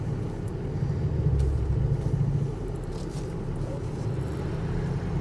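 A 2005 Ford Excursion Eddie Bauer with a 6.0L Powerstroke diesel idles steadily, a low, even rumble that swells slightly partway through and then settles, heard alone without talk.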